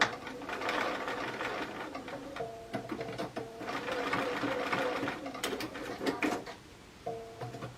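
Sewing machine stitching at high speed, rapid mechanical whirring bursts that start and stop several times, with a person talking over parts of it.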